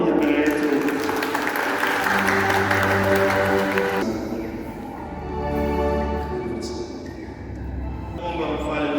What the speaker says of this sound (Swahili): tupige makofi wanapokuja mbele yetu